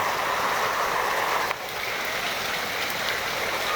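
Heavy, unceasing rain falls in Las Piñas with water flowing along the streets, a steady broad hiss and rush heard up close, briefly dipping midway before resuming.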